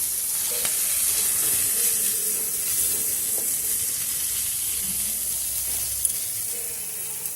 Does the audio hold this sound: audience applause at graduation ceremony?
no